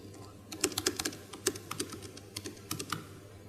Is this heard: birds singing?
no